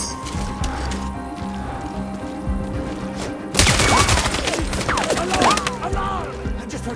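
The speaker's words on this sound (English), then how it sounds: "I just heard gunshots!" Rapid gunshot bursts from Sniper Ghost Warrior Contracts 2 break out abruptly partway through, loud and close, following quieter game ambience and effects.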